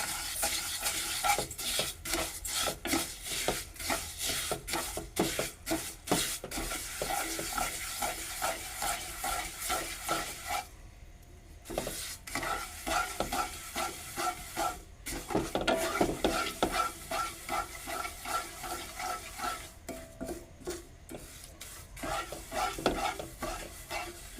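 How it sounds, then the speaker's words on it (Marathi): A sweet coconut and sugar mixture for coconut burfi is stirred continuously in a pan, with a fast, steady run of close scraping strokes, a gentle sizzle beneath them and two brief pauses. "आता आपण हे ढवळा देऊ"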